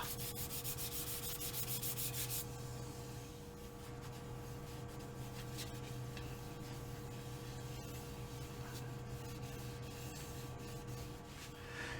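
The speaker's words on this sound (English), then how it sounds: "Fascinating watching sanding, isn't it? At least it's hand sanding and not the whirring of some motor." Steady hand sanding on wood, a continuous raspy rubbing that runs the whole time at an even level, with a faint background hum.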